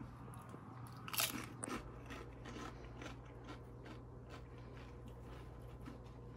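Biting and chewing homemade salsa during a taste test: a loud crunchy bite early on, then softer repeated chewing and crunching close to the mouth over a steady low background hum, with no talking.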